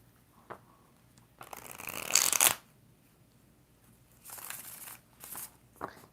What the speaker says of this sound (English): 5 shuffles for Lova.